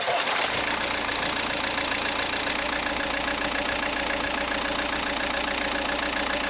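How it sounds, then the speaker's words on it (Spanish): A car engine fires up and settles into a steady idle during a mass airflow sensor check, a continuous close mechanical drone with a brief louder burst at the start. "Arrancar el motor."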